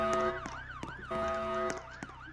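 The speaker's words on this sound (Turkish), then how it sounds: "Siren sesleri geliyordu." Police siren in the Roblox Brookhaven video game, a loud wailing tone that rises and falls in repeated sweeps, with a clipped whooping burst at each turn and steady game ambience beneath, no voices over it.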